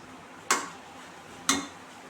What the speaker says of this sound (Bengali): ঢাকাটা দিয়ে দেবো এখন।